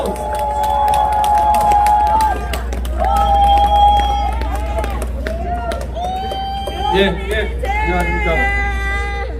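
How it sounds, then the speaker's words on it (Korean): A rally crowd in Gwangbok-dong, Busan, demanding President Park Geun-hye's release, cheers and claps while amplified voices ring out over a steady noisy hubbub for the whole stretch. "여러분, 뜨거운 박수로 환영해 주십시오."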